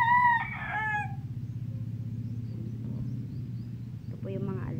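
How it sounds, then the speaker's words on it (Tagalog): A rooster crows loudly at the start, followed by a second crow near the end, over a constant low hum and chickens clucking in a backyard flock of Kelso, Sweater and Peruvian gamefowl bloodlines. "Andyan po yung nangingitlog ng mga babaeng manok."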